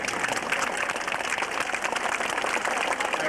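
A crowd at a 1991 Black Ribbon Day rally in Toronto cheers and applauds for Boris Yeltsin, a steady, dense wash of clapping and voices that holds evenly throughout.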